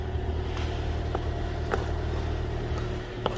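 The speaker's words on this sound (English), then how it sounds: "I'm just gonna give it a go and quick spin down the road." A lifted Suzuki Jimny idles and rumbles with a low, steady engine drone as it sets off down the road, with a few faint clicks and knocks over the hum.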